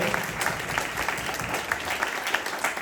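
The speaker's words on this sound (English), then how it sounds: "Let's give Joe a big round of applause." A campaign rally audience applauds for Joe, a steady, dense wash of clapping from many hands that holds at an even, fairly loud level throughout with no pauses.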